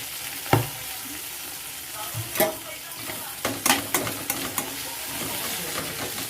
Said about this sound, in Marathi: आता ह्याच्यामध्ये आपल्याला जिरा टाकून घ्यायचं